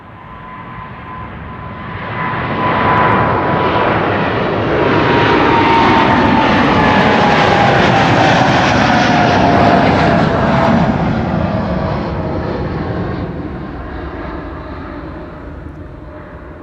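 A KLM Boeing 787-10 Dreamliner departs Amsterdam Schiphol on a sunny day, its loud jet roar swelling steadily and holding for several seconds before slowly fading, with a thin whining tone sliding downward through the rumble.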